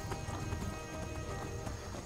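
Horse hooves gallop in a steady, quick clip-clop rhythm in the Skyrim video game, close and continuous under a dense, constant wash of game sound.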